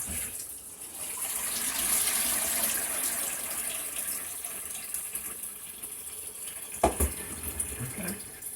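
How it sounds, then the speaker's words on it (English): Water pours from a tap into a pot of peeled yam for boiling, making a steady gushing, splashing stream that runs for several seconds before a few clanks and knocks near the end. "Add some water and we'll boil."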